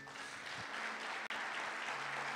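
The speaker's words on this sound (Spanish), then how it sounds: "Dale un aplauso a Dios." A church congregation claps together in dense, sustained applause during a sermon, heard from within the room and fairly loud throughout.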